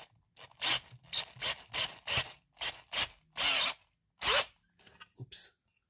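A step drill bores through PLA plastic, enlarging a hole to 9 mm, in a series of short whirring bursts of about a second each, separated by brief pauses, fairly close and alone.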